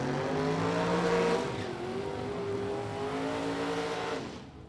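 A Camaro and a Corvette drag race, with loud engine roar and rising, shifting revs that hold strong, then fade as the cars pull away.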